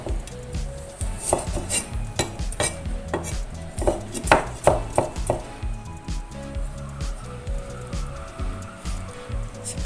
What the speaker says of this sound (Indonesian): Iris panjang-panjang dan tipis ya.